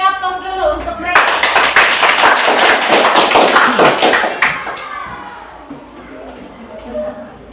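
Audience clapping breaks out after a voice, loud and dense for about three seconds before tapering off, with speech resuming beneath the fading applause.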